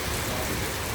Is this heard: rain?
yes